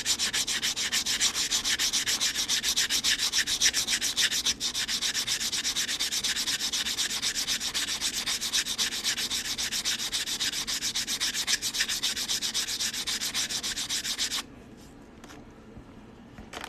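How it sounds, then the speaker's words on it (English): Sandpaper rubbing the cut edge of a quarter coin ring, a close, rapid back-and-forth scratching that continues steadily and then stops, leaving near silence. "I'm just gonna sand up this cut edge a little bit and then stretch it out."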